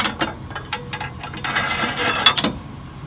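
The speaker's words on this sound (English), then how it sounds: "First thing we do is make sure the header's locked on." A combine harvester's header being locked onto the machine during wheat harvest: a run of loud metallic clanks, ratcheting clicks and latch knocks close by, with a grinding stretch near the end and no talk.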